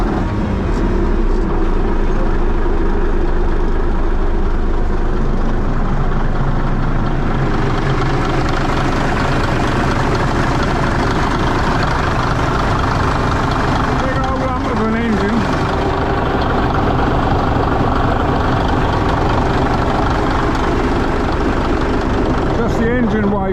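Caterpillar D8K bulldozer's heavy diesel engine running close by, a loud, steady low rumble that continues for the whole stretch, with a voice speaking over it.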